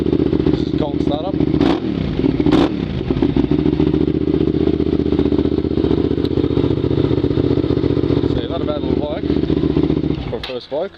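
Hyosung GT650R motorcycle starting from cold, a steady rumbling idle with clattering mechanical texture and occasional blips of throttle, close and loud throughout.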